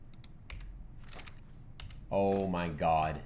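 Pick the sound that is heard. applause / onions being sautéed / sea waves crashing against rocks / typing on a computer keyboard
typing on a computer keyboard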